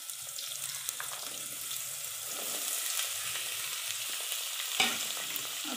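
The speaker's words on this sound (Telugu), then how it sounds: "తాళింపు గింజలు వేసుకుందాం, కొంచెం ఆనియన్స్, కొంచెం క్యారెట్, కొంచెం ఆలు," Onions, carrot, potato and chillies with tempering seeds fry in hot oil for a kitchiri of thick rice, giving a steady close sizzle with scraping stir sounds and a brief clink near the end, no talking.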